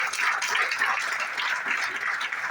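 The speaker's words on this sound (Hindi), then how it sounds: "एक बार जोरदार तालियां चाहूंगा" Faint, steady applause from an audience honouring a leader at a business gathering, a thin continuous patter of many hands with no clear pauses over the short stretch.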